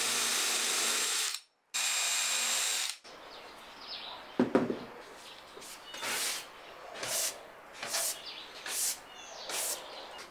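Hand drill boring holes, with a loud grinding burst at the start followed by a series of repeated short rasping pulses, close by.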